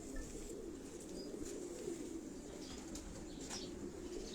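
Pigeons in a breeding cage give soft, low coos and faint wing rustles beneath a constant, even background hum.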